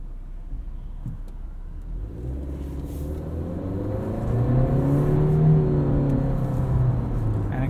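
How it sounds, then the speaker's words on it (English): A 2020 Honda CR-V Touring AWD with a CVT pulls away from a stop, its engine note climbing in a smooth, steady rise over road and tyre rumble heard from inside the cabin. "acceleration from a stop is quite good as well from a CVT without it being jolting to your passengers"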